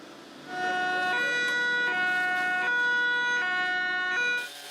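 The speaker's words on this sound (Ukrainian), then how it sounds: "Поруч гудуть сирени" A siren wails steadily and loudly during an emergency drill at a burning three-story building, its tone stepping up and down in a repeating pattern before cutting off at the end.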